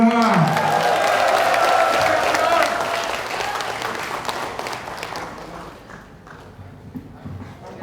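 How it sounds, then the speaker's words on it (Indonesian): Audience applause for a company founder at a seminar in Bekasi, a dense wash of clapping that is loud at first, then thins and fades toward the end with some talk mixed in. "sekali lagi berikan tepukan terbaik Anda kepada founder kita, Bapak Walter"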